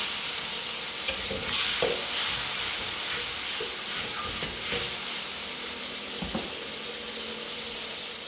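Tomatoes tumble into a hot frying pan and get stirred, a steady sizzle and hiss running under occasional scraping and clinks of the utensil against the pan.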